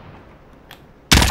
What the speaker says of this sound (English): Oh, I got sniped.